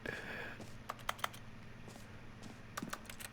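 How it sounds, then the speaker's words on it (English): Footsteps in The Stanley Parable that sound like keyboard keys being tapped, a scatter of light clicks in small bursts over a steady low background hum. "Why does it sound like we're tapping with the damn keyboard?"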